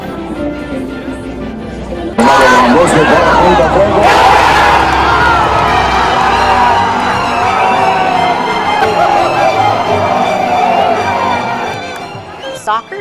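A large crowd roars and cheers loudly and continuously at a Mexico national soccer team watch party in Mexico City, swelling abruptly after a quieter murmur and holding steady with dense chatter throughout.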